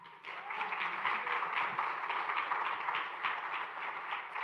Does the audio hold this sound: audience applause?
yes